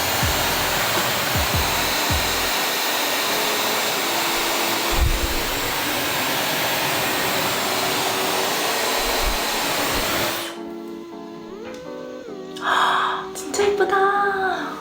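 A hair dryer blow-dries freshly cut see-through bangs with a loud, steady close whoosh for about ten seconds, then cuts off, leaving quieter rustling and brief muffled sounds.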